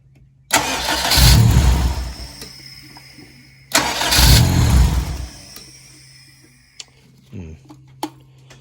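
A K-series engine swapped into a Fiat 124 Spider cranks on its starter in two long bursts of a few seconds each, loud and close, without catching, followed by quieter clicks and handling noises.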